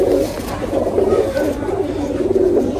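Pakistani Kamagar pigeons cooing, soft throaty rolling coos repeating close by over a low background murmur.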